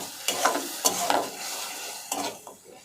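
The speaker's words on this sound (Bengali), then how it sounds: "মশলাগুলো ভালোভাবে কষিয়ে নেব" Soft sizzling of ground spices frying in a pan with several scraping strokes of a spoon stirring, spaced irregularly; quiet and close, no talking.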